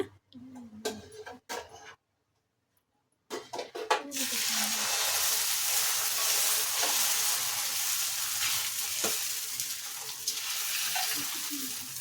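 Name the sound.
egg dosa frying on a pan with oil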